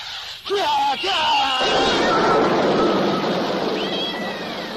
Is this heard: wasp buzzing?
no